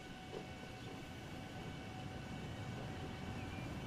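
An express train in the Transport Fever game rushes past at high speed, producing a steady, dense roaring rumble with faint tonal whine and no break across the span.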